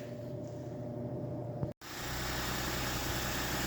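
A car engine idles steadily as the car is pulled out of a garage, a continuous low rumble that breaks off briefly midway and then resumes louder and closer.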